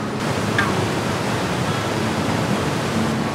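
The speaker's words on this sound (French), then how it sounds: "On a un ruisseau qui est pas trop loin." Nearby stream rushing steadily in a mountain setting, a dense continuous wash of water noise with no pauses and no voices.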